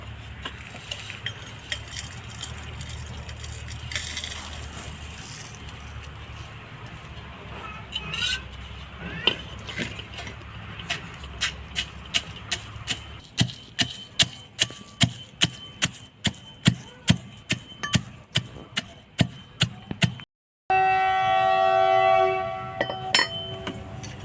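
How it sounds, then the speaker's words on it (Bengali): Roasted spices are pounded by hand. Soft knocks give way to a fast, regular run of sharp, close strikes with some clinking, followed by a brief silence. "ভেজে রাখা মশলা কয়টা কুটে নিব"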